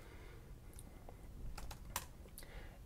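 Quiet keystrokes on a computer keyboard, a few scattered taps and a short burst of clicks, close and soft in a still room.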